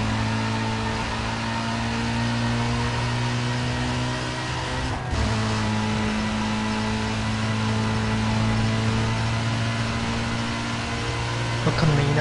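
Car engine in the racing game Need for Speed Most Wanted, a steady droning hum holding at an even pitch for the whole stretch, with a brief dip midway and faint talk underneath.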